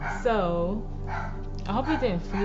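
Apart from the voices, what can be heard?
dog barking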